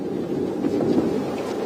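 Wind gusting during a safari game drive among buffalo, a continuous low rushing buffet on the microphone, steady and close.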